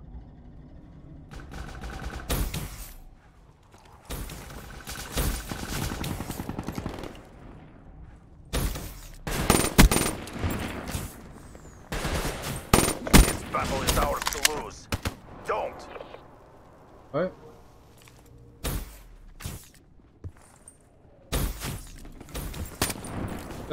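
Rapid bursts of nail gun fire in a Black Ops 3 multiplayer match, loud clustered volleys that start and stop over about twenty seconds, with quieter gaps between them.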